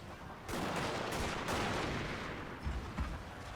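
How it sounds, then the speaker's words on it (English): Artillery fire in the samurai-era battle game Fall of the Samurai: a sudden broad blast rumbling on for a few seconds, followed by a couple of fainter distant thumps, with no one talking. "This unit right here is coming under heavy artillery fire."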